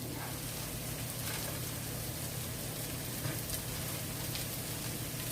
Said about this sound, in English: We're gonna make the hash brown sizzle, aren't we?